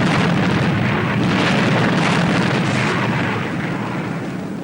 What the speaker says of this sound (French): attention à mon signal, attention à l'explosion.